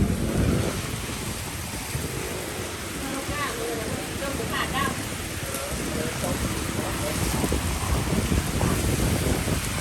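Rain falls steadily during a car wash at 2 a.m., making a dense, continuous hiss with wind-like rumble throughout while people talk over it.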